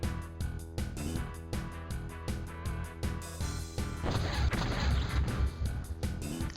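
Rapid bursts of interceptor gunfire fire at a UFO in the strategy game X-COM: UFO Defense, dense repeated shots in quick rhythm that swell into a louder, noisier barrage toward the end.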